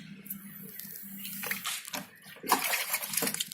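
Water poured by scoop into a plastic ice cream bucket set up as a betta fish breeding tank, splashing in uneven bursts with a louder, fuller pour near the end, fairly close.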